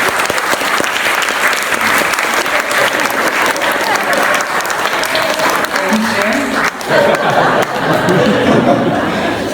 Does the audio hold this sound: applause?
yes